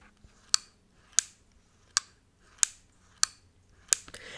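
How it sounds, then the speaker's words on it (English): JBL Quantum 200 gaming headset giving its mute and unmute sound, six sharp, bright clicks repeating at an even pace about every two-thirds of a second, quiet and close with nothing else around. "the sound it makes when you mute it and unmute it"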